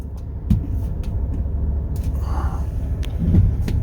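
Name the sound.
2019 Ford F250 flat bed truck engine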